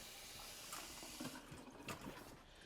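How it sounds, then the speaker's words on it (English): Tap water runs steadily over sweet potatoes being rinsed in a kitchen sink, a constant faint hiss with a few soft splashes and no talking. "Even with me just running water on them."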